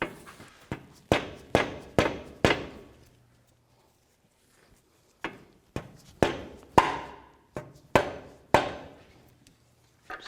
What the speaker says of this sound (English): if you need to use a rubber mallet or a dead blow hammer, just tap it back into position.